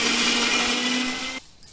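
A kitchen mixer grinder whirs steadily as it grinds fried onion, ginger and garlic into a paste, a loud continuous motor hum lasting over a second before cutting off abruptly, followed by a brief clack.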